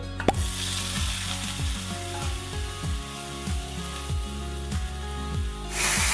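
Finely chopped potatoes fry in hot oil left from frying taro for a kochu dalna curry, giving a continuous hissing sizzle beneath background music.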